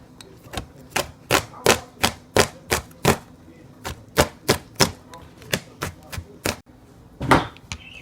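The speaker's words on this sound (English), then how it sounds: "get my garlic chopped up" Garlic is chopped with a knife on a board, about seventeen crisp, close knocks in a quick, fairly even rhythm, with a brief pause near the end before one last heavier strike.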